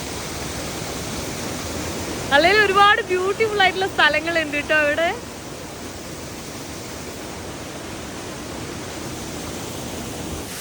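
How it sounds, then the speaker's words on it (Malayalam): Cold wind blows steadily outdoors at a scenic spot in Turkey, a constant loud rushing hiss that runs the whole time while someone speaks briefly over it. "ആ ഒരു തണുത്ത കാറ്റെല്ലാം ഇങ്ങനെ വീശി"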